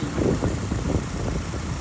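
The 2.5 liter engine of a 2002 Nissan Altima idles with a steady, even rumble, close and continuous without a break.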